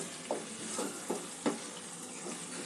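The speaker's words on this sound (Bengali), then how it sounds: "টক দইটা দিয়ে একটু মশলাটা কষিয়ে নেব।" Spice paste frying with sour yogurt in a pan for an egg gravy, a steady sizzle with a few soft stirring scrapes spaced through it, close and fairly quiet.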